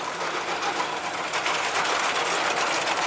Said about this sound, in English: Allows us to open the guards while the machine is running.